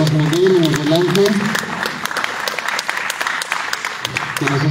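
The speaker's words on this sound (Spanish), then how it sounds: "les pido un gran aplauso a nuestros expositores, a Miguel y a Miguel Ángel" An audience at a talk on Mexico City's territorial planning programme applauds the two presenters, a short burst of clapping that follows a voice and then thins out.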